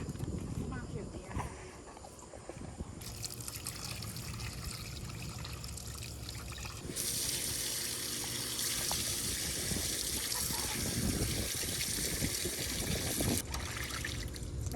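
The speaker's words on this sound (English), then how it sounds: "And then let's turn off the hose." Water runs steadily from a garden hose near a peacock pen, a soft continuous trickle and splash under a person talking, with a brief change in flow midway.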